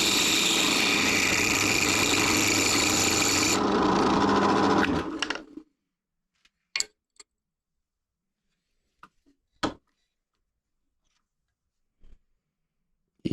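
A drill press spins a workpiece like a lathe, whirring steadily and loud before spinning down to silence, followed by a few sharp isolated clicks and taps.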